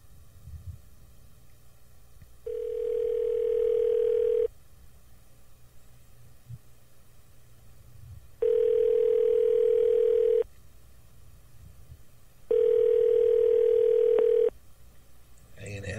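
Telephone ringback tone of an unanswered call, three long steady beeps each about two seconds, separated by about four seconds of quiet line hiss, heard close through the handset.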